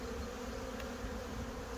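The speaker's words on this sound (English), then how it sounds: "So that's through from the bottom to the top, full of bees." Honeybees buzzing inside a hive box packed full of bees from bottom to top, before being moved to rapeseed; a steady, continuous close drone throughout.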